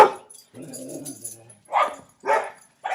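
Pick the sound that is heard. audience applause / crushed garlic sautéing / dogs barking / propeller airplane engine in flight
dogs barking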